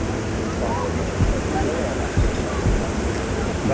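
Manavgat waterfall roaring in a steady, dense, close wash of rushing water that never lets up, with voices faint beneath it.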